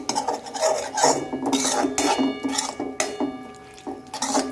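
Boiled cluster beans and potatoes being mixed in a pan with a spoon, giving steady scraping and clinking of utensil against metal, close and continuous with no talk.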